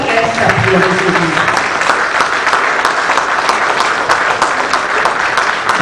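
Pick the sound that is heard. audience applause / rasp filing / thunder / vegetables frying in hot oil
audience applause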